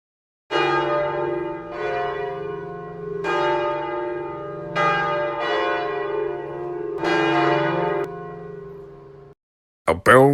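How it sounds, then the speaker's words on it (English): A large bell tolls five times in slow, even succession, each strike ringing out and decaying into the next, followed by a brief silence and a faint new sound. "A bell tolled in the sky."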